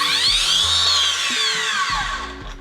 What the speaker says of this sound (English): One thing I want you to notice is how slow the blade starts.